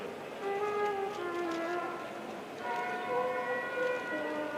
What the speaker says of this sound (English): Now the ambulance is pulling up.